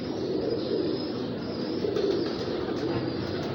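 Pigeons coo steadily at a loft holding Tiger Imamuddin racing pigeons, a soft continuous low murmur that carries on without a break and sits under a faint background hum, with no one talking over it.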